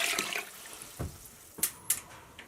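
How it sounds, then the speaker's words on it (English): Water poured into a stockpot over chicken carcasses and feet for homemade stock, heard as short splashing pours and bursts of running water with brief pauses between them. "we're going to top this with just enough water to cover the chicken carcasses"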